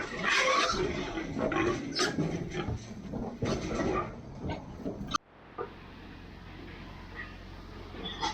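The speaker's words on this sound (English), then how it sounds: "get to work loading pigs" Hogs grunt and squeal busily at close range while being loaded on a farm, with shuffling and bumping; the noise cuts off suddenly and a quieter background with a few faint grunts follows.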